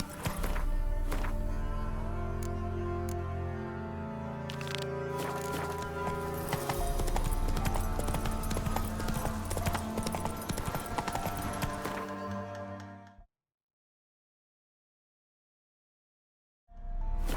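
In The Witcher 3: Wild Hunt, a horse's hooves clip-clop in a steady galloping rhythm over game music, with an occasional neigh. The sound runs loud and continuous, then cuts to silence before briefly resuming.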